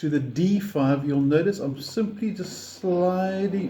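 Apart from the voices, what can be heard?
No distinct noise like a dog, phone or traffic.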